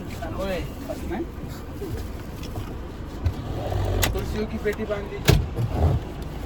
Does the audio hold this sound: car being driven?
yes